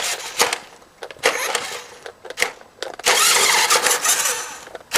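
An old Hot Machine radio-controlled toy truck drives in bursts, its small motor whining up and cutting out over about five seconds, ending in a longer sustained run at close range.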